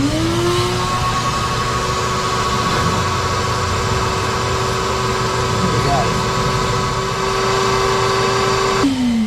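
A shop vacuum or similar suction tool pulls plastic bits out of a work truck engine, giving a loud, continuous tonal drone that holds steady for several seconds before its pitch shifts near the end.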